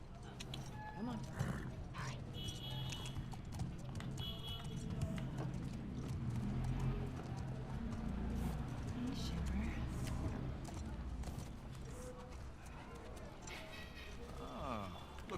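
Horse hooves clip-clop steadily in The Last of Us Part II, heard up close beneath continuous game music and ambience while people talk over it throughout.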